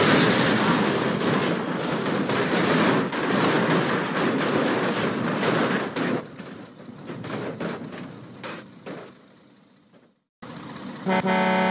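A train rushes past with a loud, sustained rumbling roar and a horn-like tone, gradually fading before a sudden cut and a brief return of noise.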